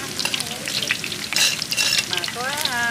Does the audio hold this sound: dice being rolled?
no